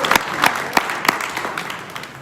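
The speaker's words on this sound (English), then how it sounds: "go ahead, clap" Scattered clapping from a small audience at a political talk, a handful of separate sharp claps spaced out and fading, with a light crowd murmur underneath.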